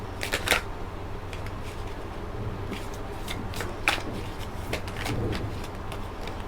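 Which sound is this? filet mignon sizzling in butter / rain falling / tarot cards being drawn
tarot cards being drawn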